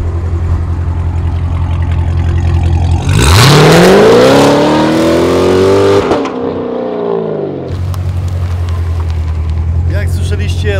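A car fitted with an Armytrix exhaust idles loudly, then with its valves open is revved hard in one long rising pull to a sharp snarl before dropping back to a rumbling idle, close by.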